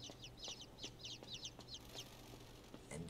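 Chickens clucking in the video game Inside, in quick repeated bursts, fairly faint and close, over a low steady hum, with no talking.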